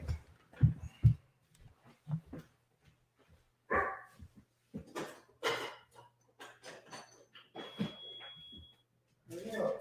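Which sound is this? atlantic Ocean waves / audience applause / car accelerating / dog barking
dog barking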